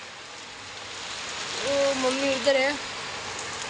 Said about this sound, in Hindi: गाइस बारिश चालू हो गई है